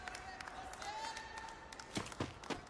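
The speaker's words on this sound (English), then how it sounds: "Crowd goes crazy down there out of that fight" Crowd at a Free Fire esports tournament watch party roaring and clapping after a fight, heard at a distance and fairly faint, with bursts of applause and cheers under an energetic commentator's voice.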